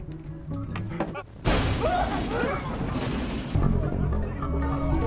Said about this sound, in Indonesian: Dongchul mengambil inisiatif dan meledakkan mobil petugas yang sedang di parkiran.